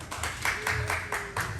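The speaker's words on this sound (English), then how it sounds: "Round of applause for Darren." A small crowd claps for Darren at a heat transfer warehouse event, a loose cluster of hands clapping in uneven bursts, close and moderately loud, with faint crowd chatter.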